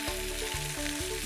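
XO sauce sizzles and spits steadily in a hot pan as it cooks down, a close, continuous frying hiss with a few faint stirring scrapes and no voices.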